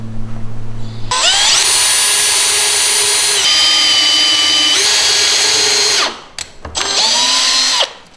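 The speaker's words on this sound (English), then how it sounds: "I'm trying to drill as straight as possible" A power drill drilling into wood whines loudly at high speed, revving up and boring steadily, then briefly stopping and starting again before a final burst.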